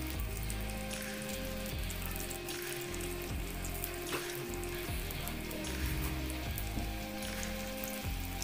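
Banana bajji fritters frying in hot oil in a village kitchen, a steady close, loud sizzle and crackle with bursts of bubbling throughout, no talking.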